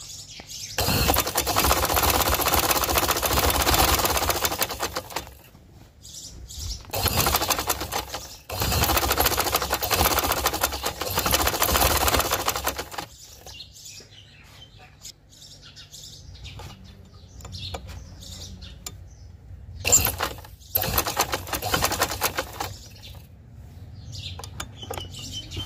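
A sewing machine stitches a dress design on a daaman and shalwar in loud, steady whirring runs separated by pauses, while birds chirp faintly in the background.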